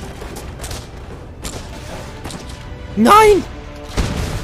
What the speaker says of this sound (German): die Kanone ist übel